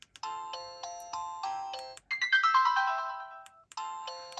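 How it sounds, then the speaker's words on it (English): An imo dash 4G phone plays its ringtone: a repeating pattern of bright electronic chime notes, then a rising melodic flourish, then the pattern again, clear and close with no talking. "Oh, just the 2 ringtones then."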